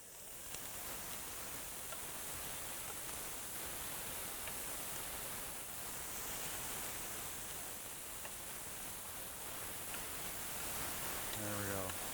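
Onions caramelize in a pan during a live braised lamb cooking demo, giving a faint, steady hiss of sizzling that continues without a break for the whole stretch.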